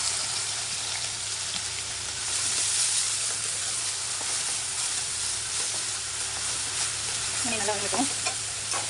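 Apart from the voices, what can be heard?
oil poured into pan, quail masala frying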